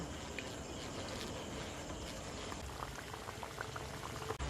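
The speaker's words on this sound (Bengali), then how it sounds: "তেলটা গরম হয়ে গেছে হালকা ভাব উঠছে গরম তেলের মধ্যে দিয়ে দেব" Semolina batter frying in hot mustard oil: a dense, fairly quiet bubbling and crackling that runs continuously, close by and alone.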